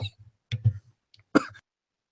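A single sharp cough rings out near the microphone after a few short, quiet vocal sounds, then silence follows.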